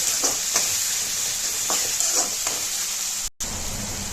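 Tomatoes sizzle and sauté in a pan for a dried fish thokku, a steady close frying hiss broken by several soft stirring scrapes, with a momentary cutout near the end.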